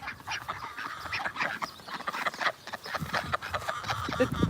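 Ducks quack in a busy, overlapping chorus close by, steady and continuous with a bit of faint talk mixed in.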